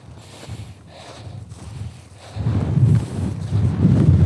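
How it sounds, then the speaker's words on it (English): Strong wind on a winter mountain ridge on the Yatsugatake traverse buffets the microphone with low rumbling gusts that grow louder and rougher toward the end. "The wind's pretty strong"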